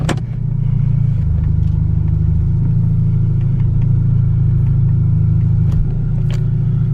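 A Kia Stinger or Genesis G70 with the 2.0 engine and a JB4 tune drives along, its loud, steady low engine drone and road rumble filling the cabin, with a few faint clicks.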